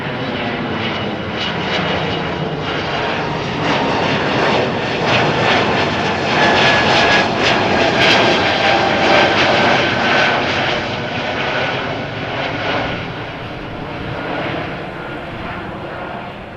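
A jet airliner taxiing at windy Amsterdam Schiphol Airport, its engines producing a steady, loud, continuous roar that swells slightly in the middle and stays up close throughout.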